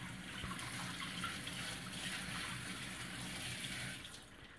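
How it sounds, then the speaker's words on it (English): Tap water runs steadily over a salmon fillet being rinsed, a continuous close splashing and trickling that holds level throughout with no speech. "I'm just going to rinse it off a little bit"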